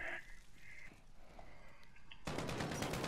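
A rapid burst of AK-12 rifle fire in Call of Duty Modern Warfare cuts in loud and dense near the end, following quieter game ambience and faint distant sounds.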